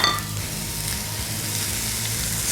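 Chopped onions sizzle in hot oil in a pan for elk enchiladas, a steady close crackling hiss with faint scrapes of stirring and no voices.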